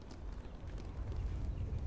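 Horse hooves clatter in the fantasy strategy video game DCI The Last Alliance, a dense, rumbling run of low hoofbeats that grows slightly louder over about two seconds.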